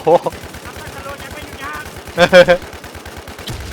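Gunfire from a sniper in a first-person shooter video game, with a few sharp shots and a quick cluster of reports near the middle, heard over steady game background sound.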